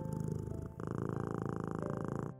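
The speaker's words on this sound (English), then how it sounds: "Maybe your cat is trying to heal you next time it decides to sit next to you and purr." A cat purrs close up in a steady, rhythmic low rumble, pausing briefly before continuing, with no voices.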